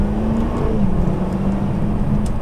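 An Audi R8 sports car engine in normal exhaust mode, given a little gas and holding a low steady rumble up close, with no sharp rise, a mild even drone throughout.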